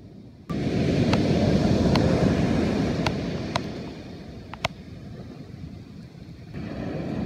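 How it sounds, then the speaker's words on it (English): Steady broadband wash of surf rolling in on a beach at night, fairly loud and continuous, with a few faint clicks and knocks on top and a slight easing near the end. "In the dark, you can really appreciate the beautiful sounds of the ocean"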